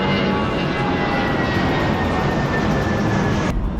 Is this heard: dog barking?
no